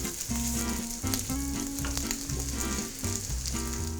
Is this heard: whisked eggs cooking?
yes